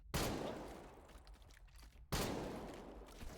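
Two loud shotgun blasts from an M23 in a video game, each a sharp burst with a long decaying tail, aimed at Sosig enemies, with no talk over them.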